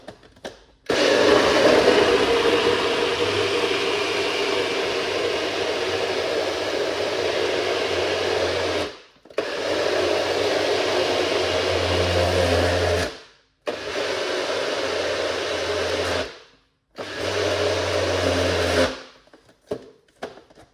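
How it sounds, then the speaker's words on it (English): A Ninja Bullet blender runs loud and steady in several long bursts, whirring through lemon, pineapple, ginger and beetroot, with short silent pauses between runs. "I'm using a Ninja blender, Ninja Bullet. Let's blend."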